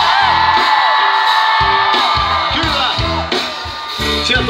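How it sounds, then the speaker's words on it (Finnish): A festival crowd at a Tikkurila freestyle rap show shouts "hep" together on cue, several loud rhythmic bursts over amplified sound and a steady crowd roar. "Kun mä sanon hep, niin jengi huutaa hep."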